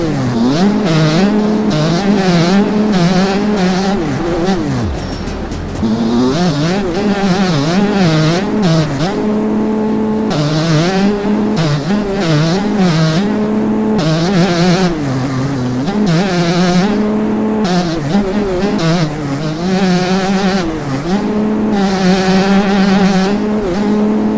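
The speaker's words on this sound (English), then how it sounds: "just revving the bike out" Motocross bike engine in the MX Bikes racing game revving hard and continuously, its loud buzzing pitch climbing and dropping with throttle changes throughout, with no talk over it.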